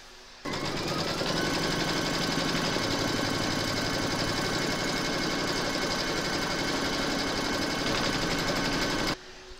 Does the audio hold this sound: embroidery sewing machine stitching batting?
yes